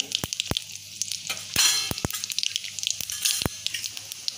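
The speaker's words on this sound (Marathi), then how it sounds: "तेल तापले, मोहरी घालायची, जिरे," Mustard seeds and cumin sizzle and crackle in hot oil, with sharp popping bursts scattered over a steady frying hiss; a louder spatter rises midway, and no one talks.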